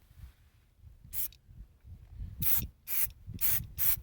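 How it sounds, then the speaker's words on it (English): Several short hissing sprays of Chemical Guys Nice & Wet tire shine misted onto a tire, one burst followed by a quick run of three or four close, crisp pumps with quiet pauses between. "let's go ahead with the first coat of the Chemical Guys Nice and Wet"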